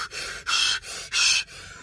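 A voice imitates heavy, laboured panting like a worked-up wrestler: four loud, breathy gasps alternating in and out in a steady rhythm, close and alone.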